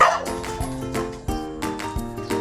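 A dog barks and yips repeatedly in quick, close bursts, loud and continuous for a couple of seconds.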